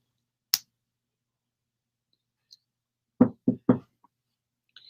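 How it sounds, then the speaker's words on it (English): Three quick, sharp knocks on wood land close together, with a single stray tap a moment earlier in otherwise near silence. "Hopefully, knock on wood."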